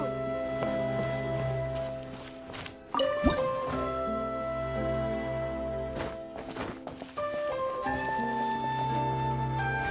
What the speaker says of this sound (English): another water droplet just came out from the wall!